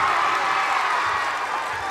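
A high school girls' basketball crowd in Harlingen, Texas roars through a free throw, a dense, loud, continuous wash of cheering and shouting.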